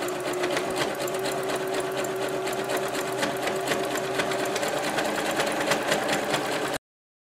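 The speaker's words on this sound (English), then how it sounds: "I'm just doing a zigzag stitch" Sewing machine running a zigzag stitch, a steady, close mechanical whirring with fast, even clatter that continues for nearly seven seconds before cutting off abruptly.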